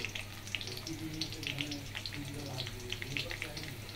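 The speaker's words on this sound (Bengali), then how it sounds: "দিয়ে দিলাম জিরে আর তেজপাতা ফোড়ন, জিরে আর তেজপাতা।" Cumin seeds and bay leaves hit hot oil in a pan after fried cauliflower and potatoes, giving a steady crackling sizzle with sharp little pops, close by and moderate, with faint voice-like murmurs underneath.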